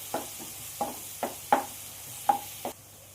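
Garlic fries in a pan with a soft sizzle underneath while a spatula taps and scrapes about six times at an uneven pace.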